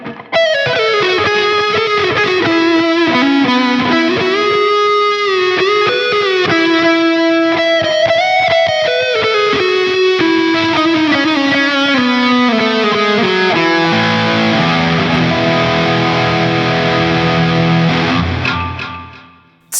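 A clean Squier Debut Telecaster electric guitar on its neck pickup plays a flowing melodic line with chords, warm and bright, sustained for about twenty seconds before fading.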